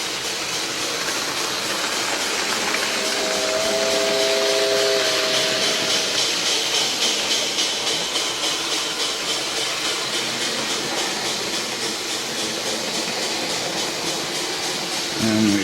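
An OO gauge model steam locomotive fitted with an MRC Sound & Power 7000 unit gives a continuous electronic chuffing hiss with a brief whistle tone, running steadily without a clear stop.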